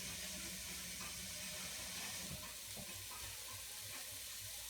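Turkey and beans sizzle in a pot on high heat for chili, making a steady, soft frying hiss with faint stirring scrapes throughout.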